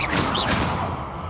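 A Bombarda spell cast in Hogwarts Legacy bursts out as a loud, brief whooshing blast with a crashing edge, close up, fading over about a second.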